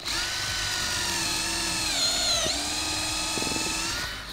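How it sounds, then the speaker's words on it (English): A corded power drill runs steadily, its high whining motor tone holding for about four seconds and dipping briefly in pitch as the bit bites into wood clamped in a jig for a DIY off-road drawer build. "Take your drill here,"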